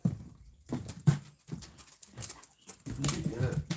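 A puppy makes small whimpers, pants and scuffling noises close by in a quiet room, coming in short bursts with brief pauses between them.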